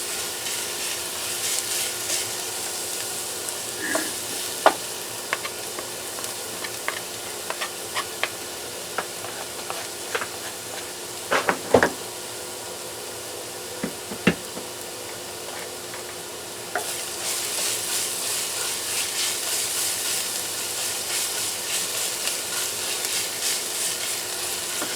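Onions sizzling in a pan for beef caldereta, a soft continuous frying hiss with occasional stirring clicks and scrapes, close but fairly quiet, no talking.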